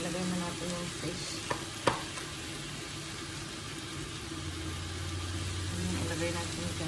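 A fish fillet with cinnamon strips sizzling in a hot pan, a steady fry hiss with a couple of sharp clinks and a low hum underneath, while a person talks.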